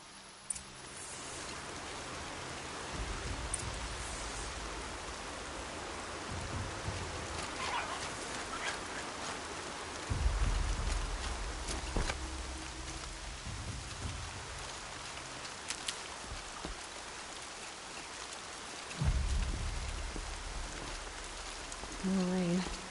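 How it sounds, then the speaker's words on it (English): Rain falling in the video game Horizon Zero Dawn, a steady hiss of drops with heavier low rumbles and bursts, occasional bird or fowl calls, and a voice speaking in places. "More rain."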